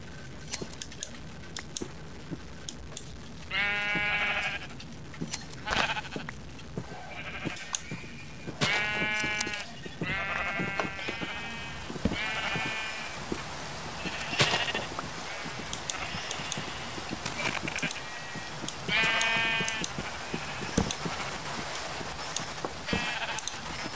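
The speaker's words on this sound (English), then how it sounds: "Sheep, where are you? There you are." Minecraft sheep bleat again and again in short wavering calls, some near and some farther off, over a rustling game background with scattered clicks and taps.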